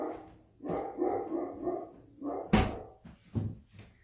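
A dog barks loudly and repeatedly indoors, with a sharp thud like a door partway through and no talk over it.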